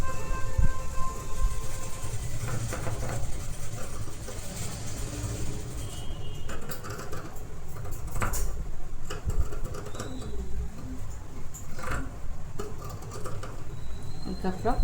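A sewing machine stitches blouse fabric with a fast, steady whirring rattle, broken by short pauses and a few clicks, up close among faint background noise.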